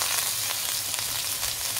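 Rice pulao ingredients fry and sizzle in a pan, a steady, close, bright hiss that holds even throughout.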